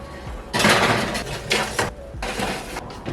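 Two baking pans loaded with cut sweet potato pieces clatter as they slide into an oven, giving a pair of bright metallic scraping, rattling bursts close by, with a third shorter clatter and no talking.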